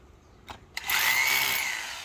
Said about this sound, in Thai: เดี๋ยวเรามาเทสสว่านบอสนะคะ